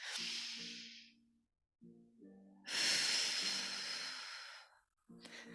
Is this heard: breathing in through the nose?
yes